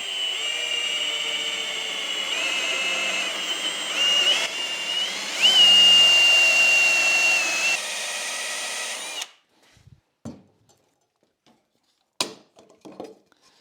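Power drill boring a hole through timber clamped to a backing block, a loud steady whine for about nine seconds with pitch shifts under load, then stopping, followed by a few quiet clunks and taps.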